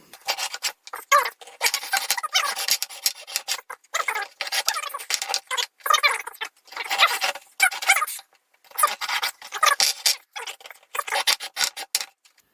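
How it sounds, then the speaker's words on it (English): A saw cuts through a soft aluminum filter housing in steady, close rasping strokes that come in rhythmic bursts with short pauses between them. No one talks. "now I made a hole in it, and it is aluminum, it's very soft. Let's just keep on sawing."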